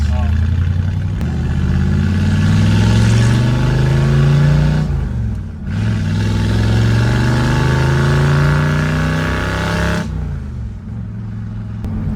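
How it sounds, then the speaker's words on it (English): A 1965 Ford Mustang Fastback with a V8 engine driving, its deep loud rumble rising through two long accelerating pulls with a brief shift dip between them, close and continuous inside the car. "It's just raw V8, nothing else."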